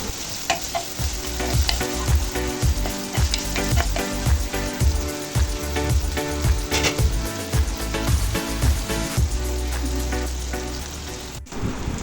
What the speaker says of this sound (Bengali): রসুন এবং শুটকিগুলো ভালোভাবে তেলের মধ্যে ভেজে নেব।